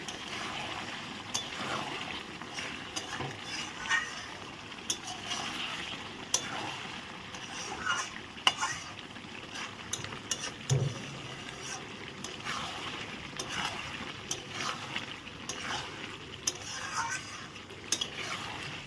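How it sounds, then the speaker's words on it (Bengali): Chicken curry frying in a pan with cumin, chili, garlic and ginger paste, stirred with a utensil: a steady low sizzle with scattered clicks and scrapes of the spoon against the pan, near and without talk. "আবার নেড়ে দিলাম ভালো করে নেড়াচড়া করে দিলাম"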